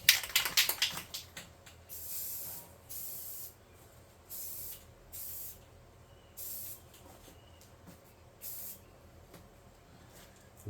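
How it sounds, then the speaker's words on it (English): White spray paint hisses from an aerosol can in repeated short bursts, about seven roughly evenly spaced sprays, each lasting under a second, close and crisp against a quiet background, with a rattle of handling at the start. "Once you get your white spray paint on it"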